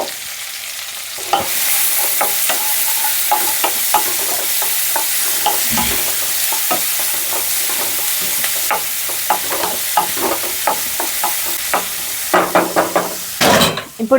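Small-chopped onions hitting hot oil for dhaba-style egg curry, a loud, sudden, steady sizzle with scattered spoon knocks and scrapes, growing busier with clattering stirs near the end.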